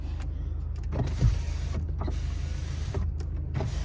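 Power windows on a Skoda Octavia hum as they run, a steady motor whine inside the car broken by several soft clicks and creaks as the glass stops and starts.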